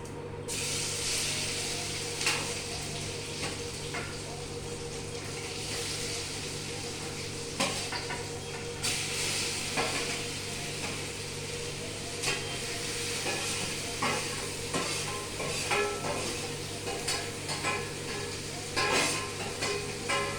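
Cumin seeds fry and are stirred in a pan on a gas stove while making sweet potato bhaji, a steady soft sizzle with occasional faint scrapes and clinks of the spoon.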